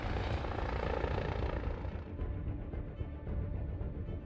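Military helicopters carrying troops during the Algerian War of the 1950s make a steady dense rotor and engine roar, loud and continuous, heard alone without speech.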